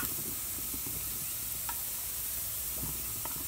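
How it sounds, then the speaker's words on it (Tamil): Onions and coriander powder sauté in a pan with a soft, constant sizzle. Light stirring scrapes come and go over the short stretch. "வெங்காயத்தோட கலர் மாறுற அளவுக்கு இதை வதக்கிக்கலாம்."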